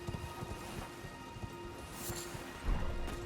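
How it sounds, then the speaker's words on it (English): Rain in the video game Elden Ring, a steady soft hiss of falling rain with a low rumble beneath and a brief louder swell near the end, no voices. "now that it's raining, it doesn't really matter"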